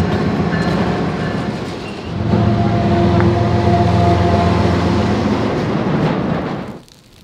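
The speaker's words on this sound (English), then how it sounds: "Train is coming." A freight train rolls past close by, a loud steady rumble of wheels and cars with clattering and faint squeals, swelling midway and then dropping off sharply at the end.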